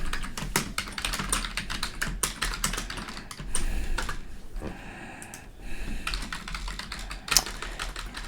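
Rapid typing on a computer keyboard comes as dense bursts of close, crisp key clicks, with a short lull in the middle before the tapping resumes.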